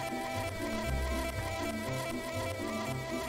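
Continuous insect-like buzzing of a bee in the Mr Bean video game hums steadily under pulsing game music, fairly loud and unbroken, with no voices.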